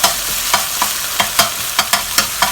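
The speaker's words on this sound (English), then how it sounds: "You want to get the red chili oil out, so we need to fry this up." Pork frying in red chili oil in a wok for a Chinese pork dish, a loud, close sizzle punctuated by brisk, regular stirring strokes, about two or three per second.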